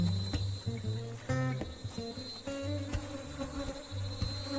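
A honey bee colony at a hive being divided into a daughter swarm, giving a steady close buzzing hum with scattered clicks and knocks from the beekeeping work.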